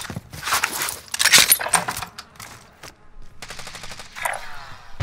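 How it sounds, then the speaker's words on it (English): Rapid automatic gunfire bursts in the battle royale video game Call of Duty Warzone, loud and close with sharp repeated shots, interspersed with quieter moments and clattering effects. "I'm under fire!"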